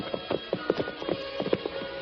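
Horses' hooves clip-clopping in a 1941 Lone Ranger radio drama, a steady run of soft, close, evenly spaced hoof clops over a faint hum, no voices.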